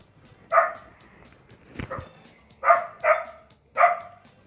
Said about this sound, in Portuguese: vai ficar 10 anos latindo esse cachorro aqui de casa